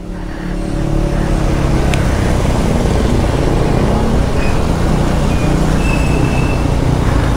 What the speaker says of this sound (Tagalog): Daming sasakyan, daming naipit.